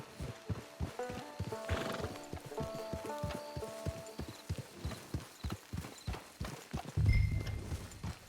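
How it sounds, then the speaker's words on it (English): In the video game Red Dead Online, a horse's hooves clip-clop in a steady walking rhythm, with a neigh partway through and another loud snort or whinny near the end. "Get your horse."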